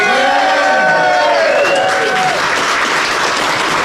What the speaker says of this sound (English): clap your hands and make some noise and let me hear